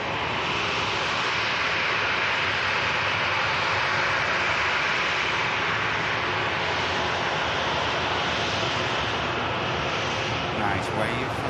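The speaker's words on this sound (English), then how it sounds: "aircraft just touching down from Antalya" An airliner arriving from Antalya touches down at Manchester Airport, its engines a loud, steady roar that fills the whole stretch with little change, while a voice speaks faintly in the background.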